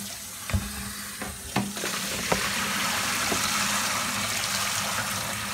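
Steady rush of running water while greens are washed, with a few soft knocks and splashes against a continuous hiss throughout, no voices.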